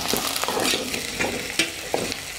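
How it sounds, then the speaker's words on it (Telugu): Raw prawns go into a pan of frying onions for a prawn curry, giving a steady close sizzle broken by several sharp scraping stirs. "ఇప్పుడైతే రొయ్యలు అయితే వేద్దాం."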